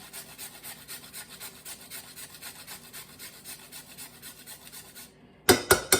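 Whole nutmeg rubbed against a grater in a kitchen, a steady rhythmic rasping stroke repeated many times at close range, ending after a brief pause in a few louder clattering scrapes.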